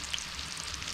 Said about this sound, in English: Oh, she's sizzling nice.